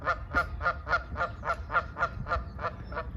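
Geese honking in a steady series of about a dozen evenly spaced calls, moderately close and clear over low background rumble, heard near a fishing spot in late February as the birds return.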